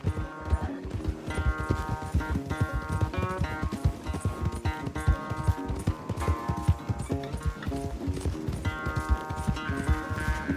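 Horse galloping during a race in the video game Red Dead Redemption 2, a rapid continuous clip-clop of hooves under background music and effects, steady and fairly close throughout.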